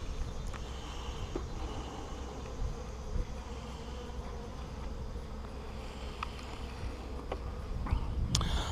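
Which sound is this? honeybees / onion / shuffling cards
honeybees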